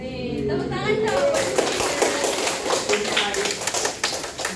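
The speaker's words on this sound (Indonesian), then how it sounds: "Tepuk tangan dong." Applause and scattered clapping from a group, steady and fairly close, with voices and chatter mixed in throughout.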